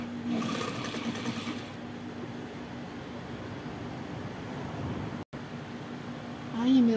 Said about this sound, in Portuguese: Costurei a essa, agora tô costurando essa, então ele vai ficar bem costurado o meio.